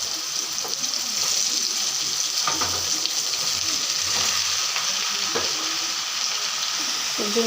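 Panch phoron spices and a dry red chili sizzling in hot white cooking oil in a wok, a steady close crackling hiss throughout with a few brief stirring clinks and scrapes.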